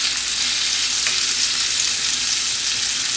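A smashed burger patty sizzles loudly and steadily in a hot pan, a dense, even hiss that continues without a break and with no voices over it.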